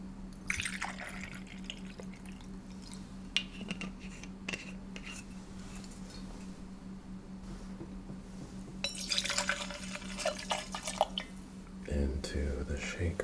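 Rye whiskey poured into a cocktail shaker behind a bar, a soft liquid trickle and splash that swells midway, resting over a steady low hum and background music.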